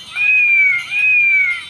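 A cat meows twice in a row, each a loud, close, drawn-out whine with no other sound around it.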